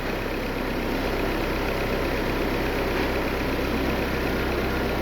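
A Lada Vesta 1.6 engine idles roughly with a shaking fault, a steady dense mechanical drone heard close and alone.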